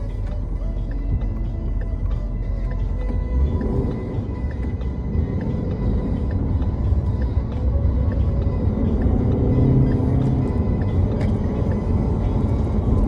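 Steady road traffic rumble heard from inside a car in Saturday evening traffic, a continuous low engine and tyre drone with passing vehicles swelling and fading and faint talk in the cabin.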